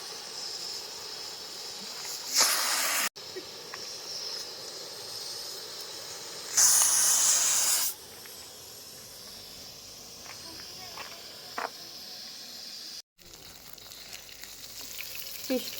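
Fish frying in a pan at a roadside cooking spot, a steady sizzling hiss with brief louder flare-ups as pieces are moved, while voices talk nearby.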